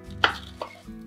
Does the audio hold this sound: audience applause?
no